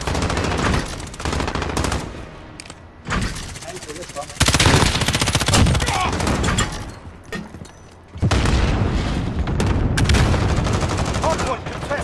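Loud, rapid automatic gunfire in a first-person shooter's hardpoint capture mode, with sustained bursts that stop and restart several times amid other battle noise and occasional in-game voice callouts.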